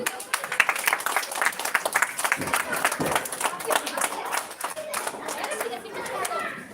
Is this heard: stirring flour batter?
no